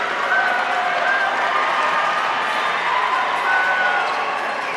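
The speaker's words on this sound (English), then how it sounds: "you hear the crowd over there just so excited" Crowd at a men's basketball championship game in the FCSAA tournament, a steady, loud wash of cheering and clapping that holds at an even level throughout with no single voice standing out.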